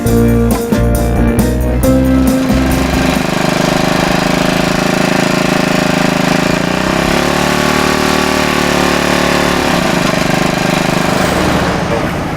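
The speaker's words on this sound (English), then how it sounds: "This is a full Briggs & Stratton little engine, and it is built to put out the speed." A 4-horsepower Briggs & Stratton small engine powers a kids' Corvette at a New England car cruise in the Berkshires. It runs loud and steady throughout, with a rough, knocking mechanical rumble and no break.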